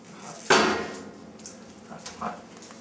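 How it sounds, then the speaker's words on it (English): A hot pan of cooked pinto beans is scooted along a kitchen counter, giving one sharp, close metallic clunk followed by fainter scrapes and a couple of softer knocks. "Scoot the hot pan along the counter."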